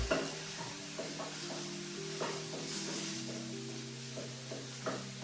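Ingredients sautéing in oil for moru curry, with a soft continuous sizzle and repeated spatula scrapes against the pan at an irregular rhythm, close and fairly quiet, with no talk.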